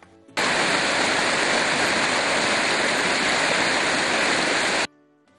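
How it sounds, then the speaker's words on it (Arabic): Water rushes steadily at the Sabaloka waterfall, set among mountains on both banks of the Nile, as a loud, unbroken roar that starts abruptly and then cuts off near the end, with no voices. "لتقارب أصوات المياه عند الشلال بمياه المطر التي تمر"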